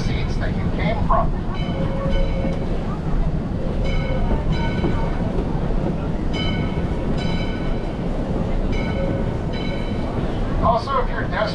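A full passenger train on the Yosemite Mountain Sugar Pine Railroad rumbles steadily along, heard from on board with continuous wheel and rail noise and faint repeated rhythmic clicks, while people talk in the background.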